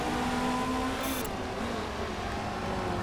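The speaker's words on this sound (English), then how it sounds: "The car sounds so good." Race car engines in the Motorsport Manager endurance racing game give a steady, loud, continuous engine drone with a sustained tonal whine that holds throughout, no talk over it.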